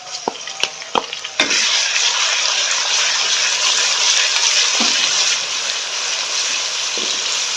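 A few utensil clinks, then ginger garlic paste drops into hot oil and a loud, steady sizzle of frying takes over and continues.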